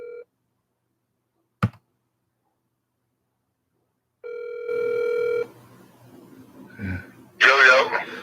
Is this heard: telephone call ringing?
yes